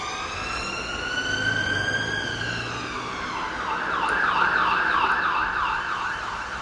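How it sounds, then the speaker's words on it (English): A loud wailing ambulance siren rises and falls, then switches to a rapid yelping pattern, ringing out from a passing ambulance over traffic noise near Westminster Bridge in London after an attack. "So we're getting a fair bit of ambulance activity going on outside now, David, just to be aware."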